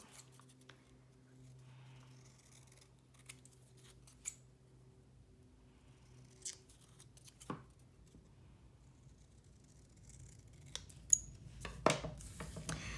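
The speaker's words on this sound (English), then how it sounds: "I'm going to cut this out and we'll see how we want to do it." Scissors snipping through paper while cutting out a craft piece, a few quiet separate cuts at first that grow busier and louder toward the end, with no talking.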